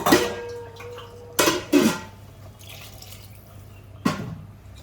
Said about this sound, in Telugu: ఇప్పుడైతే మనం వాటర్ పోసేసుకుందాము ఇందులో ఒక one and half glass water అయితే పోసేసుకుందాము